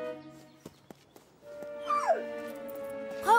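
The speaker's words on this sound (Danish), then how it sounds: "Det er en hund. En redderhund." A cartoon rescue dog whimpers in short, rising whines near the end, preceded by scattered soft yips and clicks in an otherwise quiet animated scene.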